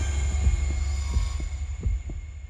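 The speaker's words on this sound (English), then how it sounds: "Rapid heartbeat echoing." A rapid heartbeat echoes in Zenless Zone Zero, a run of regular low thumps over a steady hum, loud and alone without talk.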